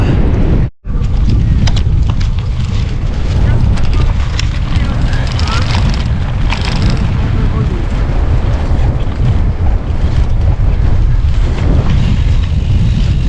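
Loud, roaring crosswind buffets the microphone on a gravel bike ride, almost without a break, a harsh steady rush with one brief dropout near the start.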